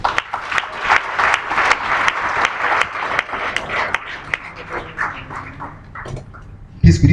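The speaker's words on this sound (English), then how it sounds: "I think he deserves a round of applause" An audience at a community gathering applauds with a steady run of claps that thins out toward the end, and a brief thump follows at the close.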